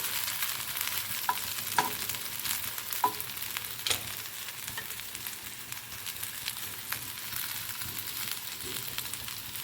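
Beetroot leaf rolls shallow frying in a pan, a steady close sizzle with occasional light taps and crackles throughout, no talking.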